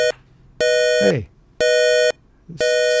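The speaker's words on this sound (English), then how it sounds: "That's a busy signal." A telephone busy signal on a simulated telephone network: a steady electronic tone that pulses on and off in even half-second bursts, three times, with a brief voice sound in one of the gaps.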